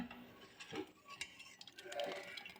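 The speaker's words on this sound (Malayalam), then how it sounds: "ഇപ്പം ഞാനിത് പഞ്ചസാര ലയിക്കാൻ വേണ്ടിയിട്ട് ഇളക്കി കൊടുത്തുകൊണ്ടിരിക്കുന്നതാണ്" A ladle scrapes and clinks around a large pot of milk payasam being stirred to dissolve sugar, with irregular soft metallic scraping and occasional clinks, fairly close, no voices.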